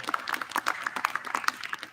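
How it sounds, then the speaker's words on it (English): Scattered clapping from an audience at a University of Virginia Army ROTC commissioning ceremony, a short burst of rhythmic, fairly sparse hand claps at moderate distance. "give a round of applause for your family members"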